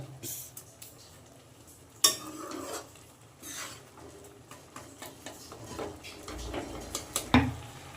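Egg tadka being stirred in a pan, with a spoon clinking and scraping against the metal over a low background sizzle, several sharper knocks standing out.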